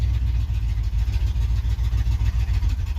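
A Ford Ranger pickup with a single Cherry Bomb muffler idles steadily with a deep, throaty low rumble and slight loping pulses, close by and continuous.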